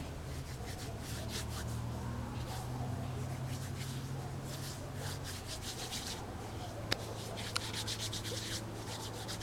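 Homemade survival fire tinder being rubbed between the hands outdoors, a steady close dry scratching and rustling that runs throughout, with two brief sharp ticks near the end.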